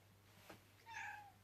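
A house cat lets out a single faint, short meow near the end, preceded by a soft brief rustle, against a quiet indoor hum with no talking.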